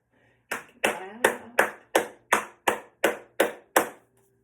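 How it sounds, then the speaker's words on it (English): Hands clapping during a fascial maneuvers class, ten sharp claps in a steady even rhythm, close and clear against a quiet background. "Clap."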